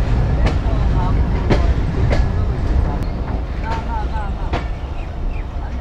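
A Dhalarchar Express passenger train rolls into Sardah Road station in Rajshahi, a steady loud rumble with repeated sharp clicks of wheels over rail joints and faint voices in the background.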